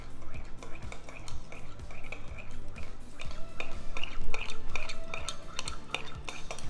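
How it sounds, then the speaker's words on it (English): A Crown Apple Jolly Rancher jello shot mixture is stirred in a pot, the spoon scraping and clinking against the metal in a steady rhythm of close, repeated strokes, with no talk. "give this a nice little stir."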